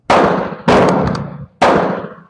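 Three loud, sharp rifle shots ring out at even intervals just over half a second apart, each with a long echoing decay, fired nearby alongside a bolt-action Carcano carbine.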